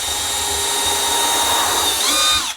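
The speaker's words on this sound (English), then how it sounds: "So I'm going to pre-mark these with my drill" A power drill whines steadily as it pre-marks holes in a wooden key hanger, the motor pitch holding for about two seconds before rising and cutting off.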